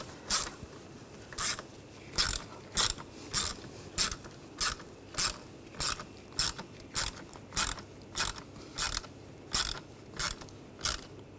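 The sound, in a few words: tightening wiring harness screws on BMW X5 engine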